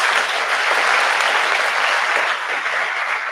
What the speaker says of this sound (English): Let me request you to give a nice, hearty applause